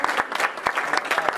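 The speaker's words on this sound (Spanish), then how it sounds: "¿Puedes darle un aplauso al Señor?" A church congregation at a Sunday service claps in a brisk burst of many hands, loud and close, with uneven sharp claps throughout.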